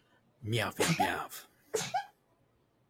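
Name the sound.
sneeze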